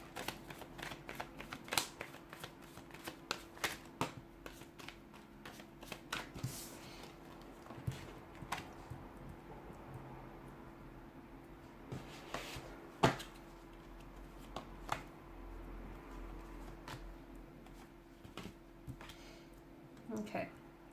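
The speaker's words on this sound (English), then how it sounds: "let's give the cards a shuffle and let's begin." Tarot cards are shuffled again and again in soft, irregular riffles and taps over a faint constant hum, with no talking.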